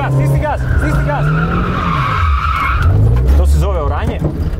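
A car drifting hard, its tyres screeching in long loud squeals over a revving engine, with people talking and shouting close by throughout.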